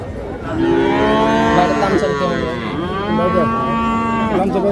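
Several crossbred calves moo in long, drawn-out calls that overlap, loud and close, filling the whole stretch with steady bovine lowing at a village cattle market.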